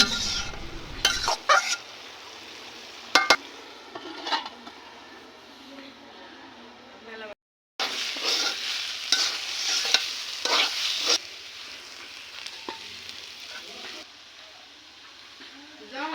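Leafy greens with salt are stirred in a karai over the fire, giving an uneven sizzle and rustle with several sharp clatters and a brief gap of silence partway through.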